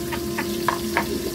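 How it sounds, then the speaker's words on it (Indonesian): Salted fish frying in a pan gives a steady, fairly quiet sizzle with a few soft, evenly spaced crackling bursts over a low constant hum, and no voices. "goreng ikan asinnya sampai matang ya"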